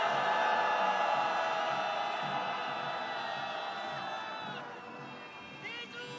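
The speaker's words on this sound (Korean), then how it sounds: "우리 촛불 시민분들과 함께하기 위해서 함성 한번 질러보도록 하겠습니다" Candlelight marchers at a street rally let out a loud shared cheer, a dense wall of voices shouting together that slowly fades, with a few scattered whoops near the end.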